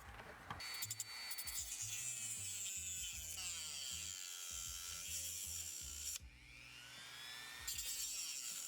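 A Dremel rotary tool with a small cutoff disc grinds through gun parts, a high whining buzz that keeps changing pitch under load, close and continuous, with a brief pause before it bites in again; no voices.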